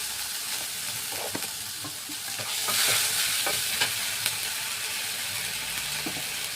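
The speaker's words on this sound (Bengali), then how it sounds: "এখানে আদা আর জিরে বাটা এই যে দিয়ে দিলাম" Ginger, cumin and green chili paste frying in a pan, a continuous close sizzle broken by repeated scraping stirs of a spatula, swelling briefly louder midway.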